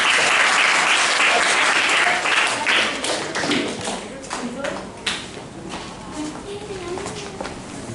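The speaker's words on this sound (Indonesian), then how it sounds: "Tepuk tangan untuk" A class applauds for a group about to present their batik motif designs: a dense, loud burst of clapping that gradually thins out into scattered claps and fades as voices begin talking.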